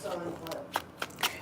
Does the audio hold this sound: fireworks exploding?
no